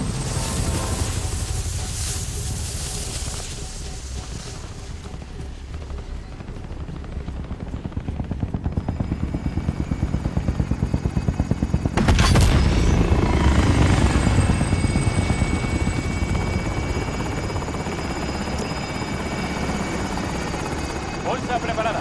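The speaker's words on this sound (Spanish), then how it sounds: "Helicóptero de depósito en camino." Helicopter from the video game Call of Duty: Modern Warfare arriving, a steady rotor thrum that grows louder and closer, swelling sharply about halfway through and then holding a heavy, close drone, with game voices speaking over it.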